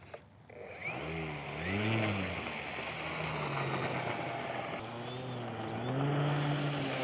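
Small RC aircraft propeller spinning up under throttle during a test flight, a sharp electric motor whine that rises and falls in pitch with several swells, close and steady, without talking.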